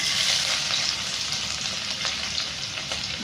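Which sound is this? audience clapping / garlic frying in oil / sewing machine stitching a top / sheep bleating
garlic frying in oil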